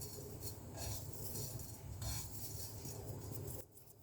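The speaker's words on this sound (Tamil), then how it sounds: "அதை அப்படியே உதிரியாக கொட்டணும். அந்த சவுண்டில் உங்களுக்கு தெரியும் அது நல்லா வறுத்தாச்சுன்னு." Dry-roasted grated coconut for coconut candy tipped loose from a pan, giving a dense, continuous rattling patter of dry particles at close range that keeps on for about three and a half seconds, then drops away abruptly.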